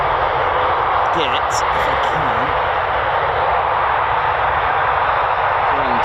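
Eurofighter Typhoon jets at RAF Coningsby roar in a loud, continuous engine rumble, with people talking over the noise.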